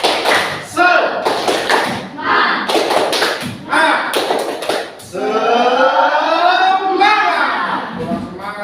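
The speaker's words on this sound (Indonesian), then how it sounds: "tambahin tepuk semangat ya" An audience of teachers claps the rhythmic 'tepuk semangat' chant, with loud group clapping in tight patterned bursts at close range. Voices then join in a chanted call.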